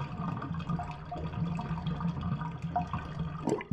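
Bathtub water draining in a horror video game, a continuous gurgling watery rush at close range with small bubbling pops throughout.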